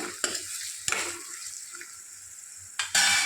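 Onions and green chillies fry in a pan with a close, crackling sizzle, broken by a few sharp scrapes and stirs of a spoon against the pan, including a loud stir at the end.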